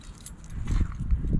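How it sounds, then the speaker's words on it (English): A large bunch of keys jangles and clinks while being sorted through at a salvage yard near a 1967 Dodge Coronet, close-up and fairly loud, bright metallic rattles over a low background rumble, with no talking. "we got a lot of keys here"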